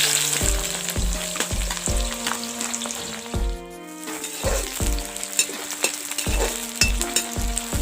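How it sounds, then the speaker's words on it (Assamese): Chopped onions frying in a pan for mutton curry over a wood fire, a loud continuous sizzle with repeated stirring and scraping strokes in a rough rhythm, close up, briefly quieter midway. "এতিয়া পিঁয়াজখিনি অলপ ৰঙচুৱা হোৱালৈকে ভাজি থাকিম"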